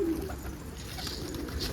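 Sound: caught stray pigeon cooing

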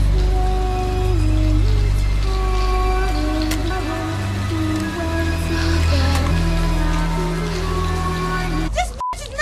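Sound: rain from a rain machine in a film scene

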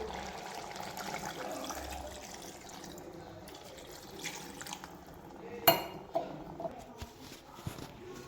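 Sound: water poured into cooking pot

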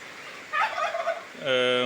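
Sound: chickens

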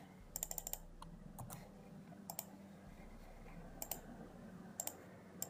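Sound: computer mouse double-clicking

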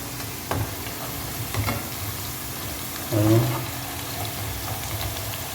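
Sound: egg-coated bread frying in pan

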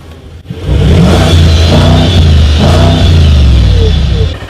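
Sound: massive coupé car engine

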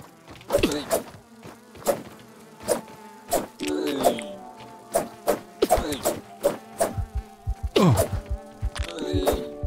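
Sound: fly buzzing in the video game Grounded

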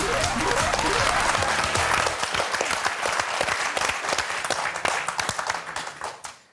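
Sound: applause for the four game show contestants

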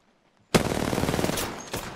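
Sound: gunfire in a video game

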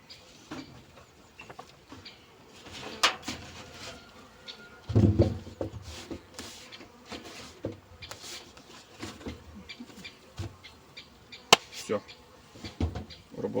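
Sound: honey bees buzzing at apiary hive

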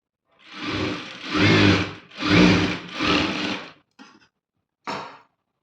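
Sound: sewing machine stitching a blouse seam

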